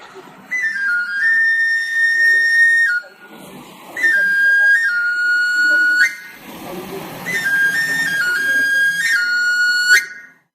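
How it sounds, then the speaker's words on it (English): A shrill plastic whistle plays a short melodic tune in three bursts, with soft background noise in the pauses between phrases. "they play a small tune on a plastic whistle"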